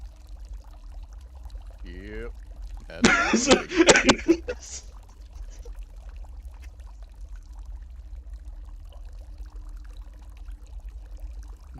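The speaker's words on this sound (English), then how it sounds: "You see a jet of water just come from his mouth" A short gushing jet of water in a tabletop role-playing session, a rushing splash of about two seconds that follows a brief warbling tone, with people talking quietly around it.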